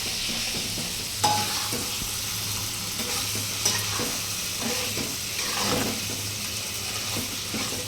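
Potatoes sizzling in a pan with peas, tomatoes and spices, a steady close frying hiss broken by occasional scrapes and clatters of stirring, with no voices.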